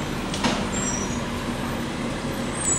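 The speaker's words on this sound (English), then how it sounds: "There's our regular garbage truck." A garbage truck drives by close, giving a continuous low engine rumble with a short hiss of air brakes.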